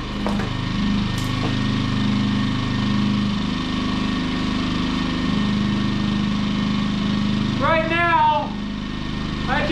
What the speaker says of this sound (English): I just want to enjoy the pure aroma of generator exhaust